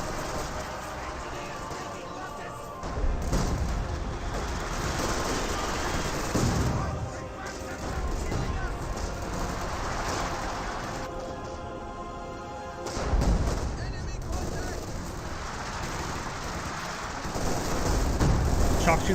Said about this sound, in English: Fires a mortar barrage there, but it's been coming way too late to be any use.